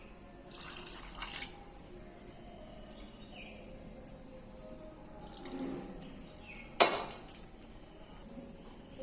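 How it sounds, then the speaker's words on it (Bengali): Water poured into a pot of meat already seasoned with salt and turmeric in a home kitchen, a brief splashing pour and a sharp clink of the vessel, moderately near with quiet room noise between. "অল্প করে জল দেবো।"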